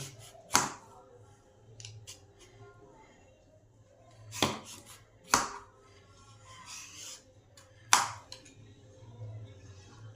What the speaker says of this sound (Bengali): পেঁপেটা আমার ভালোভাবে খোলাটা ছাড়ানো হয়ে গেছে